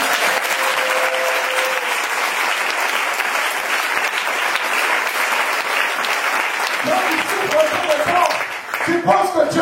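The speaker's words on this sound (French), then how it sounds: "Est-ce que tu peux m'acclamer Jésus?" A church congregation bursts into sustained, loud applause and cheering to acclaim Jesus during a sermon, the clapping dense and continuous, with voices rising toward the end.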